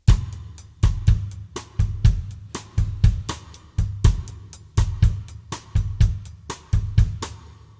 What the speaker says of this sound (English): play the hi-hat on all the 8th notes, bass drum where it was, and the cross stick where it was